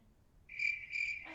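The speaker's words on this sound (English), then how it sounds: "Oh, you got the crickets." A cricket chirping sound effect plays as two short, bright trilled bursts, fairly close and clear over near silence, with another sound rising at the very end.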